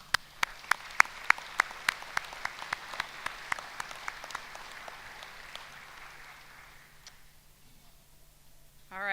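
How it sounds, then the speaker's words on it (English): Audience at a winter commencement ceremony gives a round of applause: distinct, evenly spaced claps ring out clearly at first, then thin and fade over several seconds into a quiet room. "I think we should give them another round of applause"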